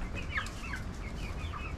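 Several Brahma chickens cluck and chirp in a short burst of overlapping calls, close and fairly loud, over a steady noisy farmyard background.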